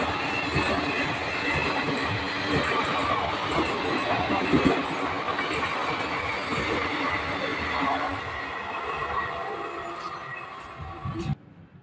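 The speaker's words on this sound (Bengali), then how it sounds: "আবার 4 নম্বর দিয়েই ছুটে আসছে আর একটা এক্সপ্রেস ট্রেন।" An express train runs through a station on platform 4, a loud continuous rumble of wheels and carriages rolling past close by for nearly twelve seconds, then fading and cutting off sharply at the end.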